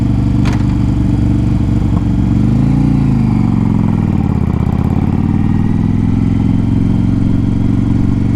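A motorcycle engine runs loud and close in a steady low rumble, its pitch dipping and rising once partway through as the revs change, with no voices.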